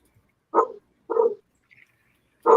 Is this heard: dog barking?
yes